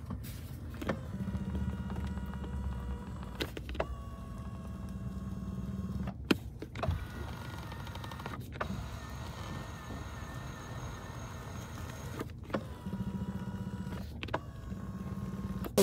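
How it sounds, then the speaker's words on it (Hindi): Land Rover car steering makes a close, steady whining motor hum with low droning bands that swell and drop in repeated bursts, interrupted by a few sharp creaks, with no one talking. "कंपैरिजन के लिए आपको इनके स्टीयरिंग की आवाज़ सुनाता हूँ।"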